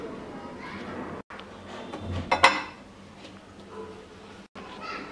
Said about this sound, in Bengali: এবার আমরা একটা মিক্সিং বল নিয়ে নিচ্ছি